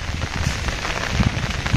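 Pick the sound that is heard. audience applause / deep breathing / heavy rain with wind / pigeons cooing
heavy rain with wind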